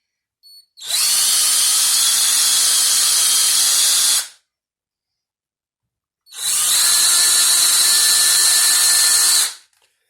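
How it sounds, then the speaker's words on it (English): Power drill boring into an Epiphone S310 Strat-style guitar body, in two loud sustained bursts of about three seconds each, separated by a short silence, close and with no talking. "I've got my drill marked as the depth I want to go"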